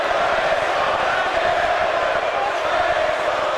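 A wrestling arena crowd in the video game WWE 2K18 chants and roars in a steady, dense wash of voices throughout, distant and unbroken, with no clear individual speech.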